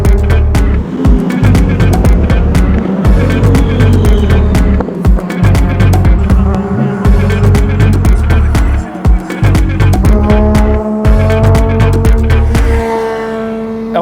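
Legends race cars roar past on a circuit, loud engines droning close by with rising and falling pitch as several cars pass one after another, the noise tailing off toward the end.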